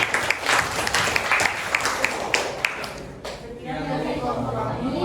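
An audience applauds a presenting group in a classroom setting, a dense burst of clapping that holds for about three seconds and then fades into quiet room tone.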